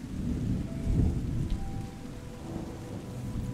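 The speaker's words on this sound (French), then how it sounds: "la pluie est en train de remplir mes cours d'eau" Rain and thunder in the video game Terra Nil, a steady downpour hissing over a deep rolling rumble that peaks early and then settles, with no voices.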